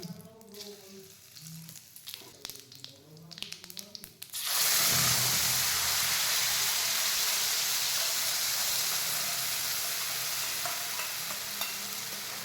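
Spice paste hits hot oil for a Bengali singhi fish curry, bursting into a loud, steady sizzle that holds for several seconds after quieter kitchen clatter and stirring beforehand.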